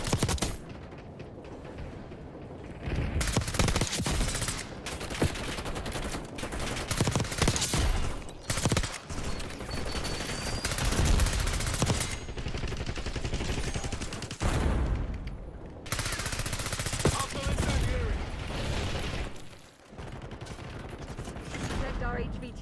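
Dense bursts of rapid automatic gunfire and rattling shots in a video game firefight, loud and nearly continuous with brief gaps, with game voices heard between volleys.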